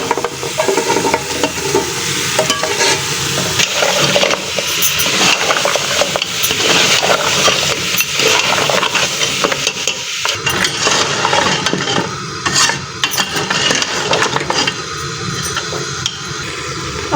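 Boiled paya bones sizzle and fry in a thick masala, with a spoon steadily stirring and scraping against the pot. The sound is loud and continuous, close up, with no talking.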